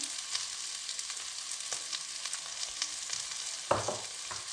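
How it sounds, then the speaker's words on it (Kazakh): Eggplant frying in a pan, with a steady broadband sizzle throughout and a brief louder burst of spattering or stirring near the end. "баклажанымыз қуырыла берсін."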